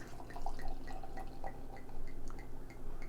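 Dogfish Head Bitches Brew 2015 vintage dark beer pours close by into a glass in a soft, steady trickle with light splashy glugs over a low hum.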